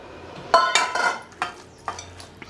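Ground green chutney, a mixie-made brinjal and raw cucumber relish, is scraped from a jar into a bowl with a spoon, giving several sharp clinks and scrapes at uneven intervals, close and moderately loud, with no talk.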